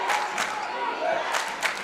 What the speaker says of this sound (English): Not only now is Liberty fans clapping, but now they're yelling defense